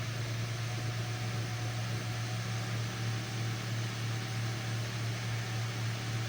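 A Ford Focus 2 1.4 engine drones at high revs after a timing belt replacement, an unbroken hum and rushing noise, constant and close throughout.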